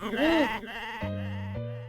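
A single wavering goat-like bleat, close and fairly loud, followed by a steady humming tone that runs to the end.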